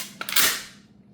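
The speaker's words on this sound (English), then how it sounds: "Rack the slide." A pump-action shotgun's slide is racked once, making a quick metallic clack with a brief double-click onset and a short ringing tail, close and isolated.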